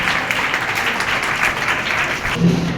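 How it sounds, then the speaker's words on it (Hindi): A church congregation claps loudly in praise of God during a Pakistani Christian service led by Pastor Farhat Manzoor, with steady sustained applause that fades near the end. "आए खुदावन के लिए जोरदार तालियां चाहिए"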